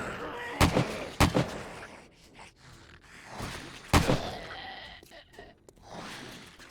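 Gunfire in the video game 7 Days to Die: two quick sharp shots early, then one more loud report a few seconds later, with quieter thuds and breathy noise between them.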